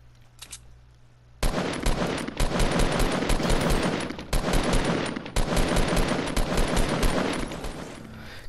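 Rapid automatic gunfire in the Fortnite video game, sustained bursts of loud shots after a brief quiet lead-in, with short gaps between long volleys.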